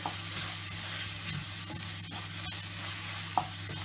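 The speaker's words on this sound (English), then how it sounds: "Give a quick stir." Softened tomatoes with chili, red and cumin powder are stirred in a pan, producing a continuous frying sizzle with soft spoon scrapes and one sharp clack near the end, no voices.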